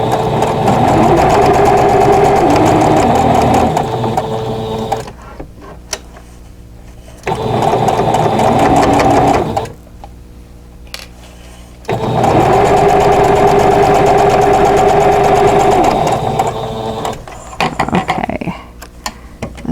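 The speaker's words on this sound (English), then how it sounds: "then I'll sew just on the outside within the seam allowance of that area where the stitches cross" A sewing machine stitches a seam on a Ribbon Star quilt block, humming in three steady runs of several seconds each, separated by quiet pauses.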